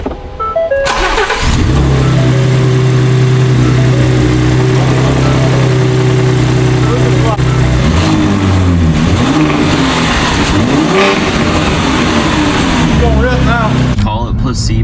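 Ford F-150 with the 3.5 EcoBoost V6 and freshly fitted colder spark plugs, cranked and fired up, then a steady loud idle with a few light revs; someone speaks near the start.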